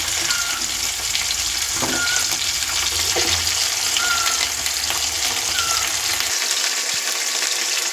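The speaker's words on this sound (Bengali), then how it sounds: "আলুগুলো লাল লাল করে ভেজে নিচ্ছি।" Potatoes frying with onions in a pan make a steady, close sizzle throughout, with a few faint metallic scrapes of stirring and no voices.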